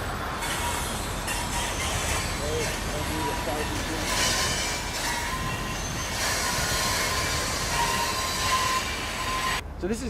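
Cargo train stopping at Kenora, Ontario beside Lake of the Woods, a loud continuous rumble of rolling freight cars with screeching wheel and brake squeal and metallic clatter, filling the whole stretch before cutting off abruptly near the end.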